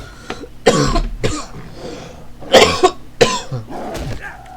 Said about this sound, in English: I still have my cough, I apologise.